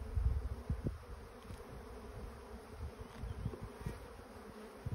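Honey bees buzz steadily around an opened beehive during an inspection, a dense, low droning swarm hum that fills the clip with no speech.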